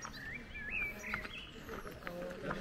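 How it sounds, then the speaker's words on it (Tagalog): Thin, high chirping and warbling bird song in a garden at Calke Abbey, England, rising over a soft outdoor hum, a few short phrases with faint background noise. "Huni ng ibon."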